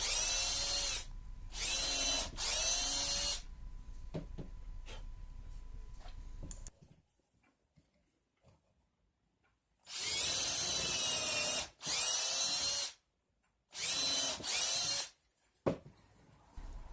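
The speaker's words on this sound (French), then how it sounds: "je vais faire des trous pour pouvoir passer mes vis" Power drill boring screw holes in wood for a sturdy garage shelf, several loud close bursts of whining drilling separated by pauses and a long quiet stretch in the middle.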